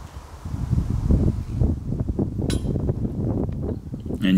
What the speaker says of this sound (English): you can hear the wind picking up here